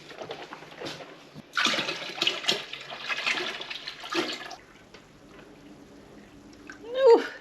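Milk poured into a stock pot on a homestead, a splashing liquid pour that swells in the middle and fades, followed by quieter handling noise and a voice near the end.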